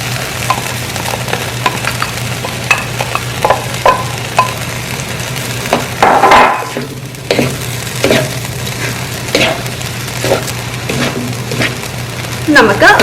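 Cooked rice is stirred into bubbling pineapple juice for a spicy-sweet pineapple rice, with a steady sizzle and repeated scraping clicks of a spoon close up, a brief louder splash midway.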